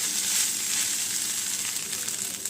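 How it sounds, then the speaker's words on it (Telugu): Cooked rice frying and being stirred in a hot pan for potato rice, a steady loud sizzle that holds evenly without pause. "వేసిన తర్వాత మొత్తం కూడా మంచిగా ఫ్రై అయినట్టు కలిసేటట్టు బాగా కలుపుకోవాలి."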